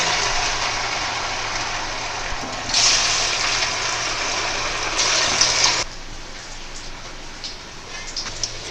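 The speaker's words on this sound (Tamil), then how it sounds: "இப்போ வந்து நம்ம எண்ணெயில் போட்டு நல்லா பொரிச்சு எடுத்துக்கலாம்" Chicken pieces for chilli chicken fry in hot oil with a crackling, rain-like sizzle that swells louder as pieces go in, then settles to a softer steady spatter.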